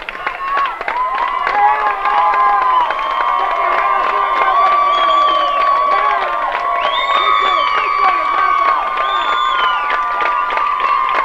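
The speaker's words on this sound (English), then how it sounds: "Well, LeBear gets a nice round of applause from the minor fans." Minor-league baseball fans at a sixth-inning game in Lyon Mountain applaud and cheer as a pitcher leaves, a loud, sustained roar of clapping and shouts that carries on throughout with no break.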